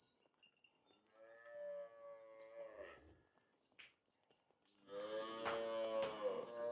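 A Jersey-Friesian cross cow moos twice, a long low call followed by a louder, closer one after a short pause, with faint background noise.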